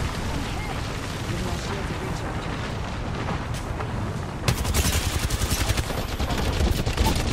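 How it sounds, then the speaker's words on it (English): Grenade blasts and gunfire in the Apex Legends video game: a rumbling stretch of explosions, then loud rapid bursts of shots in the second half, with voices talking. "They're trying to nade us out."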